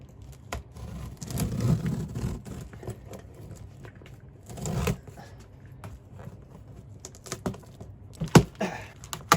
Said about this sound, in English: Let's go ahead and cut it open with our car keys.